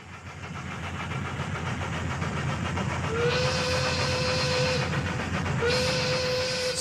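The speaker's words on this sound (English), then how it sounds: "A locomotive winds through the steamy American South, bound for Baltimore, Maryland." A steam locomotive rumbles steadily along the track with a continuous low roar, and its whistle sounds twice in long, sustained blasts over the running noise, with no talking.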